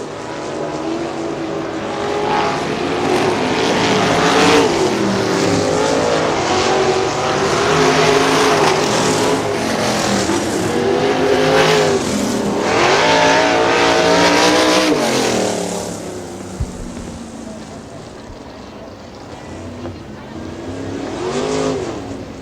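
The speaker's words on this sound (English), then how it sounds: "Daryl Schaefer in the 29 car running in second spot." 410 sprint cars race around a dirt oval at Butler Battlegrounds in Quincy, Michigan, their loud engines roaring and revving in waves as they pass close by, the noise dropping off before another car approaches.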